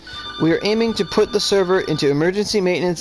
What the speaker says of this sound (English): So that's my phone going off because it always goes off.